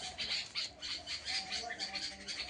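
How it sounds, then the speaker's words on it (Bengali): Agitated household birds squawk loudly and rapidly in repeated harsh bursts, close by, their calls coming in quick succession. "পাখিগুলো এত আন্দোলন করছে"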